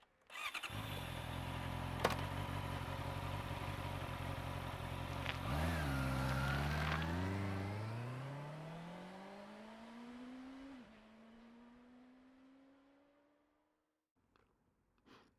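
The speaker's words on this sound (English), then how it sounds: "welcome to this ride on the Honda CBR650R" A Honda CBR650R motorcycle engine revs hard and then winds down through the gears on the road, loud and close, its pitch climbing and falling before it fades to near silence at the end, with no talking.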